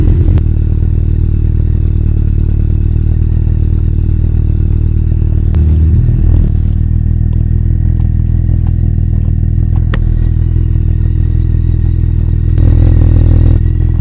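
Loud motorcycle engine running and revving on a mountain road, with a clutch that is failing, a constant mid-pitched drone with a few sharp clunks and a rise in revs near the end.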